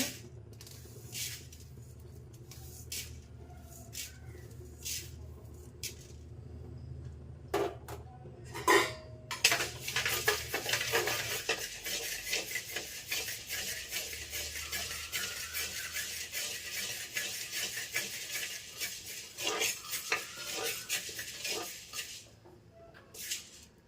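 Barley being dry-roasted and stirred in a pan for a homemade millet mix, with scraping, rattling grain and utensil clinks that grow busier and louder midway, then a steady scratchy churn to the end.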